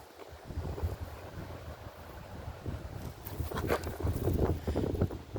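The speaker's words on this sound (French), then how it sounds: "il y a du vent et il fait un peu froid" Wind blowing outdoors on a cold day, a continuous rumbling gust noise buffeting the microphone, steady and fairly loud throughout, swelling slightly toward the end, with no speech.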